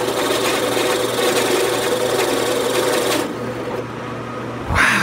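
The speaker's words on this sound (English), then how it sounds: "And this time you'll want to drill all the way through." A drill bores all the way through a piece of wood turned on a lathe, part of making a cellphone and tablet charging stand. A steady, loud grinding whir with a low motor hum runs for about three seconds, then eases off, followed by a brief knock.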